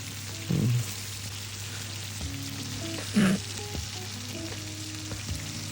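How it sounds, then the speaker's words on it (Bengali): Hilsa fish sizzles steadily in a hot pan, with two louder bursts as the pieces are flipped over, close and alone without talk. "এক সাইড ভাজা হয়ে গেলে আমরা এটা উল্টে দিচ্ছি"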